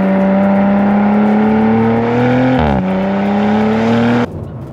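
An Audi RS4 Competition with a 2.9-litre twin-turbo V6 drones steadily while driving, its pitch climbing slightly, then a brief gearshift dip before the engine note cuts off near the end.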